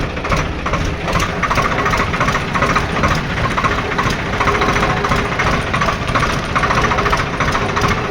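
Swaraj 744XT 4x4 tractor diesel engine running in high-range reverse gear, a loud, steady rumbling drone with a fast knocking pulse, close and continuous, no voices.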